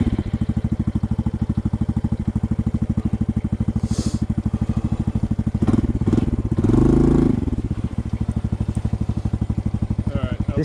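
A Honda CT125 motorcycle lugs along a rainy-season single-track trail in Thailand in second gear, its single-cylinder engine thumping in a steady, close, rapid pulse with a brief louder surge midway and a voice speaking over it.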